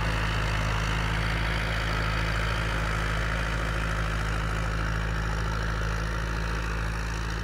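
A farm tractor engine idles steadily, a constant low, throbbing rumble that stays close and loud throughout with no talking over it.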